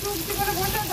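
Tomatoes sizzle in a frying pan as they are stirred for a jackfruit and prawn curry, a soft, continuous crackle that lasts about a second.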